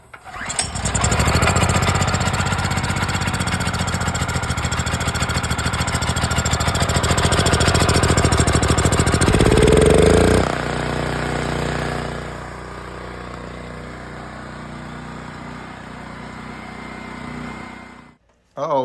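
A Predator 9000 portable generator engine starts and runs at a steady, loud, close drone for about ten seconds, then drops to a lower, rougher idle before cutting off.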